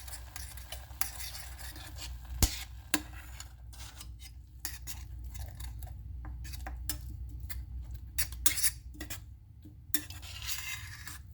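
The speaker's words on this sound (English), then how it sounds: "I'm going to stir it around in there." A utensil stirring dried zucchini and egg in a pan, soft scraping and light clinks of metal against cookware, quiet and close, with a few sharper taps standing out over a low background hum.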